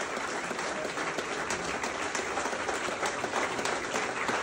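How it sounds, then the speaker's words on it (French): Audience applause at a live Mika show, a dense sustained clatter of many hands clapping at even volume throughout, with no voices rising above it. "Et on peut les applaudir."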